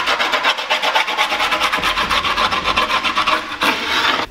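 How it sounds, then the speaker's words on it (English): A screwdriver rasps steadily along the edge of skateboard grip tape, a loud, close, rhythmic scraping of repeated strokes with no talking. "At an angle, you're going to take the screwdriver and work your way around the grip tape."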